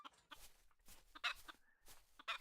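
Chickens cluck in a farmyard in the video game Travellers Rest, with several short bursts of clucking coming in an uneven rhythm, fairly close and clear, and no talking.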